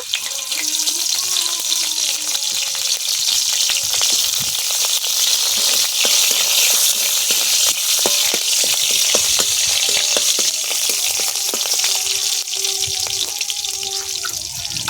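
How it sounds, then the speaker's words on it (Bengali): Nigella seeds and two green chillies fry in hot oil in a kadai, a loud, dense crackling sizzle running steadily throughout, with faint clicks and scrapes beneath it. "কড়াতে দিয়ে দেবো তেল। তেলের মধ্যে দেব কালো জিরে আর দেব দুটো কাঁচা লঙ্কা।"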